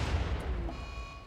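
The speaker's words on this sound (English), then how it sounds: "Explosion." An explosion as colonists attack a machine turret in RimWorld, a heavy low boom with broadband rumble that swells at the start and fades over about a second, alone without talk.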